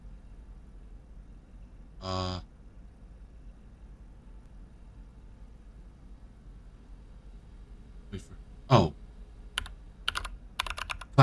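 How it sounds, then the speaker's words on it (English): Computer keyboard typing in an indie video game, with a short electronic tone early on, then a few quick clusters of clicky key presses near the end against a faint low hum. "Click on keyboard."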